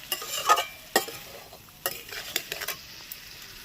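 Soft mourola fish being gently stirred with spice paste in a pan, a few distinct scraping strokes and light utensil clinks over a quiet low sizzle.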